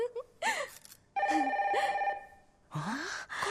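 A telephone rings in a radio studio, its electronic ringtone repeating in bursts with short gaps, clear and close, and no one speaks over it.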